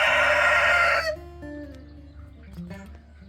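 Barred Plymouth Rock crossbreed chickens: a loud rooster crow fills the first second, then softer hens cluck and murmur in short irregular calls nearby.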